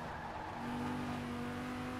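Car exhaust drone in the racing video game Forza Horizon 4, a steady low engine hum with a sustained tone that runs unbroken and fairly loud throughout.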